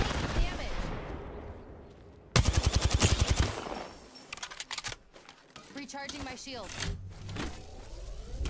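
Rapid automatic gunfire bursts in Apex Legends Season 14, loud close volleys of rattling shots broken up by pauses, with other game sounds and a voice speaking over parts of it.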